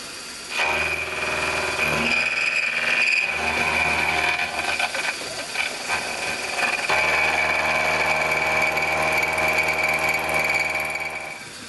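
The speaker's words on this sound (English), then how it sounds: "So I've center drilled two holes on position." Power drill center drilling holes in a metal box section, a steady whining drill motor running for most of the stretch with a brief pause near the start and a tonal ring throughout, no talking.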